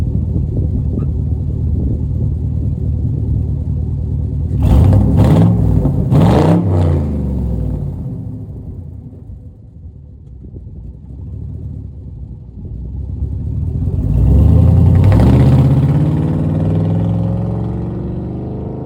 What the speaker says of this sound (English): I'm going to show you guys what it sounds like.